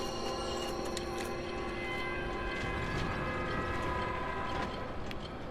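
A clanking, ratcheting mechanism grinds on in Dark Souls Remastered, a continuous metallic gear whir with steady clicks and a tonal drone, fairly quiet and heard alone.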